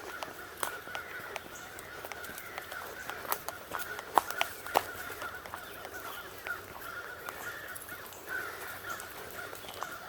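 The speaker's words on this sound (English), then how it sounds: "Hear the crows after something." Crows caw repeatedly at a distance in Mayo Park, Millersburg, sharp calls scattered irregularly over a quiet outdoor background.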